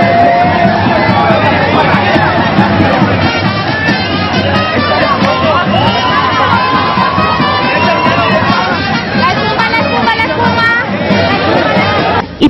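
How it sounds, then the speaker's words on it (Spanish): Loud, dense crowd noise at the Carnaval del Oriente parade in Bucaramanga as spectators cheer the floats, with constant chatter, scattered shouts and children yelling all filling the air close by. "las barras y aplausos para las carrozas participantes"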